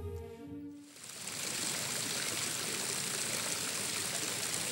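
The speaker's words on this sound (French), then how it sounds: "Un ruisselet fort sympathique." A small mountain stream, the young Salinthe rising below a snowfield near the Rambert hut, flows and trickles steadily and close by, a dense continuous wash after a brief softer start.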